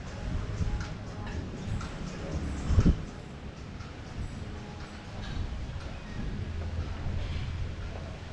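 Strong coastal wind buffeting the microphone by a rough sea at Cala Ratjada on Mallorca, a steady low roaring rumble throughout with a brief louder thump midway.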